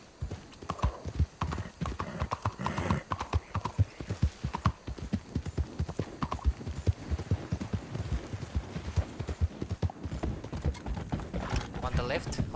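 Steady clip-clop of horse hooves trotting in the video game Red Dead Online, at a brisk, even rhythm, close and continuous throughout.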